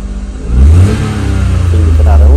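A car engine revs up hard and then eases back, holding a loud, close mid-pitched roar with a rising and falling pitch, captured while an OBD2 scanner logs engine RPM.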